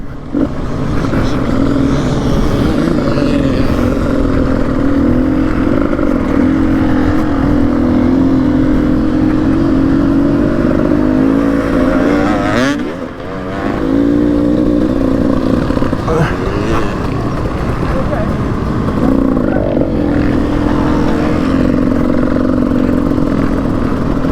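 A 300cc two-stroke enduro motorcycle rides a rutted trail, its engine droning loud and steady up close with wind buffeting, briefly easing off before pulling on again.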